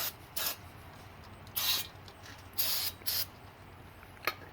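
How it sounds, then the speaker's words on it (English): Aerosol brake parts cleaner sprays in brief close hisses onto the rear brake pads and hub of a 2006 Ford F250, five uneven bursts with a quick final puff, separated by quiet gaps. "So we'll go ahead and spray this and clean everything off."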